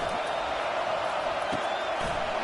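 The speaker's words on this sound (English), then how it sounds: "It is getting loud as this crowd tries to help its defense" Football stadium crowd building into a loud, steady roar to back its defense, a dense wash of noise holding for the whole stretch without breaks.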